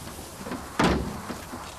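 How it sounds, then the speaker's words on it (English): A door shuts with one sharp, loud slam partway through, followed by a fainter knock or two against quiet street background, no speech present. "Close the door."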